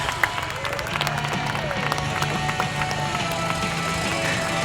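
A show crowd at the Poynton Show 2022 reacts to a motorbike stunt, producing a dense, continuous roar of cheering and clapping with steady engine hum beneath, moderately loud and without clear speech.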